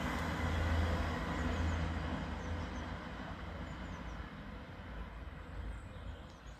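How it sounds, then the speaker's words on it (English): A South Western Railway diesel unit on the Reading to Salisbury service passes at a moderate distance, a low rumbling engine and rolling wheels that swell early and then ease into a steady fainter drone. "South Western Railway service from Reading to Salisbury"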